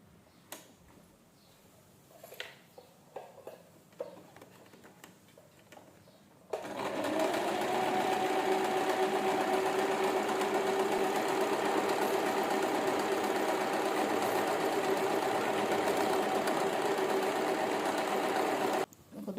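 A sewing machine stitches embroidery on fabric, a steady fast mechanical whirring that starts after a few scattered clicks of handling and runs continuously for about twelve seconds before stopping.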